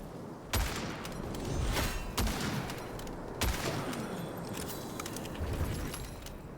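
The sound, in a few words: rifle gunfire in video game Witchfire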